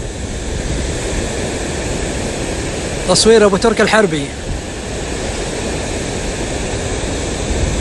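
Floodwater pours like waterfalls down a valley north of Shaqri near Tabuk after heavy rain, a loud, constant broadband roar throughout, with someone briefly speaking over it midway.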